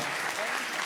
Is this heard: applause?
yes